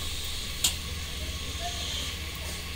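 Potato curry sizzles as it roasts in a pan, a soft steady hiss that continues throughout, with one brief clink of a utensil near the start.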